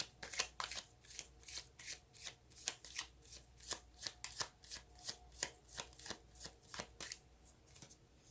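Tarot cards are shuffled steadily by hand, a close, rhythmic run of crisp riffling snaps repeating about twice a second with no talking.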